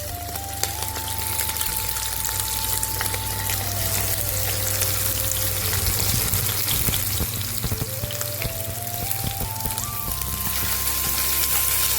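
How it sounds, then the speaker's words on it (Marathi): Green chillies and cumin seeds fry in a pan with a loud, dense, crackling sizzle that runs continuously, with a steady tonal hum in the background. "त्यावेळी आपण आता या मिरच्या टाकून घेऊया. आणि त्याबरोबरच जिरे पण हे जे घेतलेले होते ते सुद्धा टाकून घेऊया."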